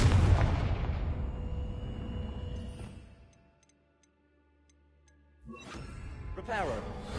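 A Confringo spell explodes in Hogwarts Legacy, a booming blast that rumbles and fades over about three seconds, then a quiet gap before another burst of sound.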